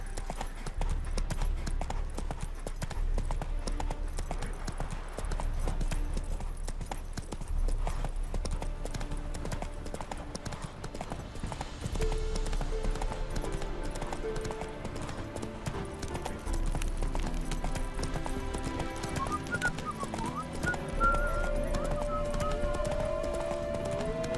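Horse hooves clip-clop steadily at a gallop in The Witcher 3, loud and continuous, with game music and ambient effects underneath.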